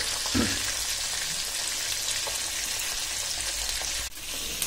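Onion, garlic, green chilli and tomato fry in hot oil, giving a steady close sizzle and crackle with a brief stir near the start and a small clatter near the end, no voices.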